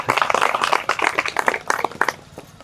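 A small audience at a Marathi financial literacy talk claps briefly, a scattered burst of handclaps that is fairly loud at first and thins out toward the end.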